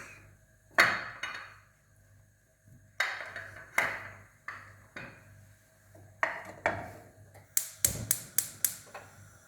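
Knife blade striking a cutting board while onions are sliced into thin julienne strips for Uzbek pilaf, a series of sharp close taps in uneven clusters, quickening into a rapid run of chops near the end.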